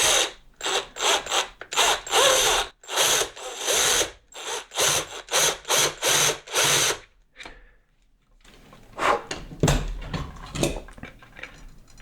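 A handheld power drill runs in short repeated bursts and whirring pulses while drilling a hole in a telecaster-style electric guitar body during wiring work, loud and close, then a pause and a longer rougher run.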